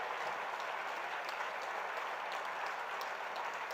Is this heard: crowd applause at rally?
yes